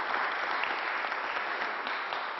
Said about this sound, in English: Let's give her a strong round of applause.